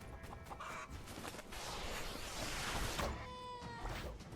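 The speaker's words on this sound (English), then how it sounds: "we get meat out of these rocket roosters, which are spiteful little chicken birds" Rocket roosters, small chicken-like birds in the video game My Time at Sandrock, cluck and squawk faintly in a few scattered calls over steady, hissing game ambience.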